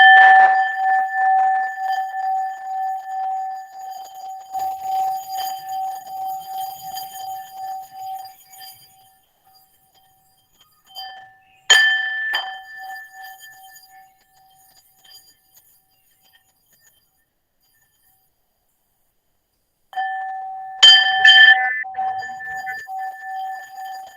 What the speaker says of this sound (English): I would like to invite the mindfulness bell